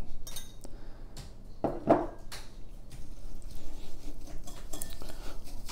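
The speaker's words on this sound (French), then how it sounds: "On mélange bien le sucre avec les œufs." Sugar and eggs being mixed in a bowl for canelé batter, with quiet, irregular clinks and scrapes of a utensil against the bowl and one brief louder knock partway through.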